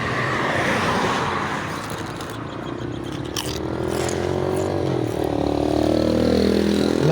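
Road traffic at a bus stop, with steady vehicle rumble and a car engine rising as it accelerates past near the end, continuous and moderately loud throughout.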